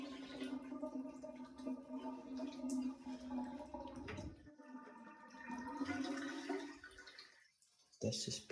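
A brandless front-flusher toilet flushes with a long rushing, gurgling swirl of water that drains away, then a brief quiet and a clunk, with a voice faintly underneath.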